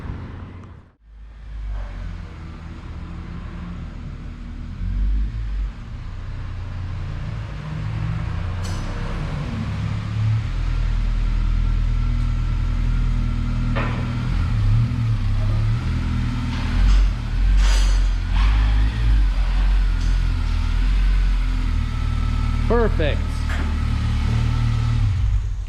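A car engine rumbles steadily at idle for a long stretch as the car is driven onto a dyno, low and close, with occasional clicks and a brief word spoken near the end.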